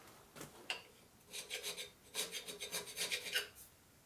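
Metal scraper working across a Harley Shovelhead cylinder head from a 1983 FXRT 80ci engine, giving quiet rasping strokes in short repeated bursts, close and without talk.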